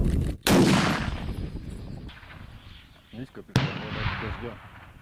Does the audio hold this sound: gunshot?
yes